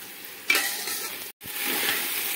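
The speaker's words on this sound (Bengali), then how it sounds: "আর চালটা জাস্ট হালকা একটু যখন ভারী ভারী লাগবে তখন জানবেন চালটা আমার ভাজা হয়ে গেছে।" Rice for pulao frying in a pan as it is stirred, giving a soft continuous sizzle with scraping strokes and one brief sharp clink, close and moderately loud, with no voices.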